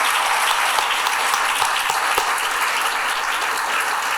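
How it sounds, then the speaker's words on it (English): A large audience claps for panelists at a downtown forum, a thick, even wash of applause that stays loud and steady throughout, with no speech over it. "give a huge round of applause and thank you to our panelists"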